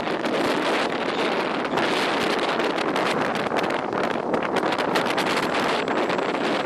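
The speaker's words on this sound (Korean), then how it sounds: "바람이 지금 많이 불고 있어요." Strong wind buffets the microphone outdoors in a continuous, loud roaring rumble with gusty surges throughout, covering any other sound.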